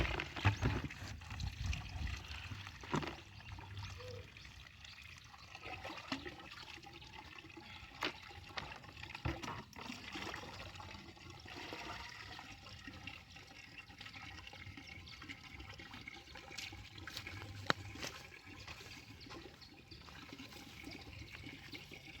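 Water poured generously onto very dry, hard ground, a continuous close splashing and gurgling rush with uneven surges, lasting throughout.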